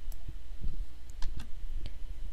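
Several sharp keyboard key clicks, irregularly spaced and close by, with a low hum underneath.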